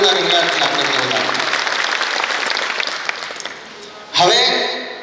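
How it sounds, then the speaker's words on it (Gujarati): Audience applause at a Shrimad Bhagavat Katha religious gathering in Vrindavan, dense and sustained from a crowd, tapering off, then a fresh loud burst of clapping near the end. "જોરદાર તાળીઓના ગણગડાટથી આપણે બધા."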